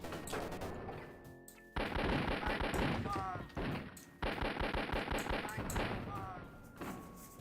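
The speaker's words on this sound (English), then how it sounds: "Man, what a bad shotgun." Repeated loud gunfire bursts fill a video game firefight, shotgun blasts among them, with brief gaps between volleys and someone talking over the noise.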